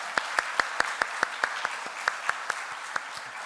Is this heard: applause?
yes